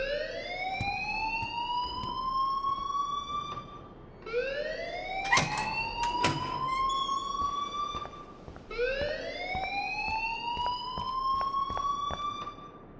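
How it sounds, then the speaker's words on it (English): A wailing alarm in the video game Life is Strange sounds three times, each a rising siren-like sweep that holds steady for several seconds before restarting, loud and continuous with brief metallic clicks partway through. "please turn off that alarm since that's your job."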